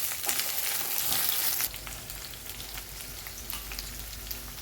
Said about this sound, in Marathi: भेंडी आपल्याला तेलात फ्राय करून घ्यायची आहे एक चार ते पाच मिनिटांसाठी